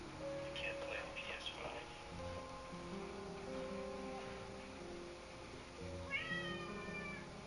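A cat meows several times, quiet and close indoors, while a person talks softly over it.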